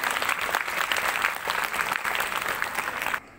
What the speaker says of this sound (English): Students, give a big round of applause.